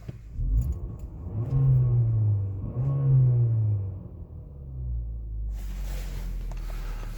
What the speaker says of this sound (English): The car is running.